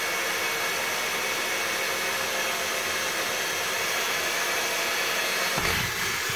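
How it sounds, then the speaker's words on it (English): A drill boring a pilot hole into a plastic BMW lighting unit, a steady high-pitched whir that runs for about six seconds and ends in a short change in tone. "you will see me drilling this hole, which is 10 mil, rather badly, of course"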